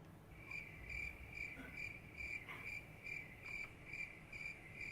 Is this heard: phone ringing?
no